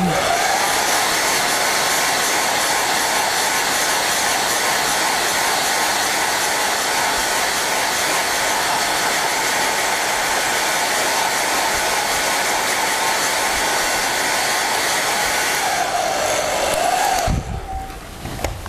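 A hair dryer drying wet paint on an abstract artwork blows a loud, steady close whine and roar that runs almost unbroken, then sputters and cuts off near the end.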